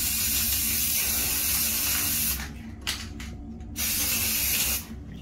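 Spray coating is applied to drag-style press-on nails in a second coat, a close, loud aerosol hiss that runs steadily, then stops and restarts in short bursts with brief pauses between them.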